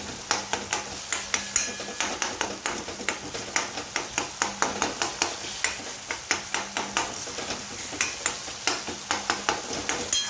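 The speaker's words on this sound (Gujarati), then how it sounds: "ખાસ ગેસ પર જ આપણે એને સોટે કરી લઈશું એટલે જલ્દી બધું મિક્સ થઈ જાય." Samosa filling with spices sautés in a pan on a gas stove under quick, regular spatula strokes, dozens of crisp scrapes and taps over a low sizzle, close and loud.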